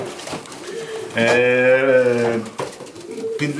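A racing pigeon's low, throaty coo rises and wavers for about a second, close by, amid background noise and rustling.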